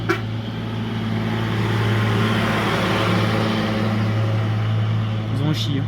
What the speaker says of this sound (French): Je me suis garé pour laisser passer les deux camions.